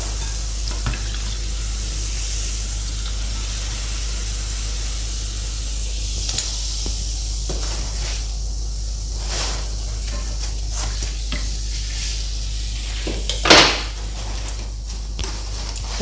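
Cameroon-style dough beignets, puff-puff drop donuts, frying in hot oil, a continuous hissing bubbling sizzle with scattered scrapes and clinks of a utensil and one sharper splash near the end, loud and close.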